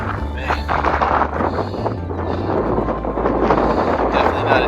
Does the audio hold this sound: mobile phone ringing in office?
no